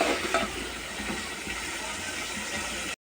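Chicken pieces stir-fried in spice masala for chicken bhuna, giving a steady, even sizzle with soft stirring scrapes that carry through unbroken, close and moderately loud, with no one talking.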